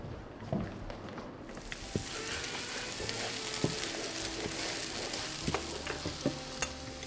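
A spoon stirs yogurt soup with dried mint in a pot, giving soft scraping strokes and a few sharp clinks spaced every second or so over a continuous low bubbling hiss.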